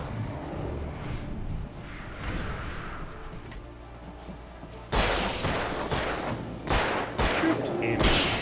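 Bursts of gunfire in the Alan Wake video game, a sustained volley of rapid shots breaking out loudly about halfway through after a quieter stretch of rumbling ambience, continuing in dense overlapping cracks to the end.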